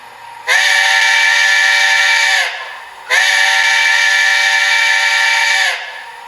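A TCS WOW Heavy Steam model train sound decoder sounds its steam whistle in two long, loud, chime-like blasts of about two seconds each, separated by a short pause, heard alone and close.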